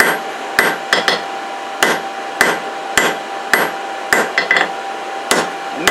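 Hammer blows forging a taper on both sides of a hand-made rope cleat, ringing out in uneven clusters of sharp metallic strikes, some doubled, with short pauses between groups.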